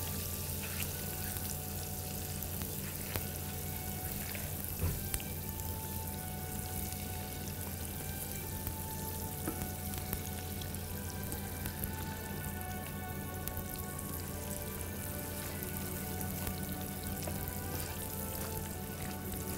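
Butter melts with sugar in a pan, giving a steady, quiet sizzle with a fine crackling texture that runs unbroken throughout.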